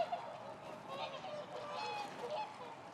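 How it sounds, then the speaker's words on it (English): Whooper swans just arrived on the Irish coast call in a faint, distant chorus of overlapping honking notes, scattered irregularly over a soft background. "These hooper swans just arrived."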